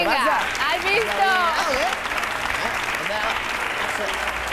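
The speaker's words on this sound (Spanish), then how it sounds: "vamos a aplaudir, ¿no?" An audience at a Spanish television talk show applauds steadily, with voices talking and calling out over the clapping throughout.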